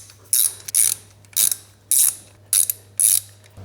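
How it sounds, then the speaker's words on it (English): An 8mm ratchet working loose bolts on a cast aluminum cover of a Honda ATV gives five or six close, loud bursts of rapid clicking, each separated by brief pauses, with no talking. "Okay, we got our 8mm on here. Let's go and get all this stuff broke loose."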